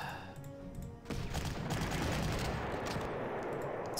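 Bombing attack in the World War II strategy game Panzer Corps during Operation Sealion: a sustained, loud roar of rapid bursts and blasts that begins abruptly after a second of softer tones and continues steadily.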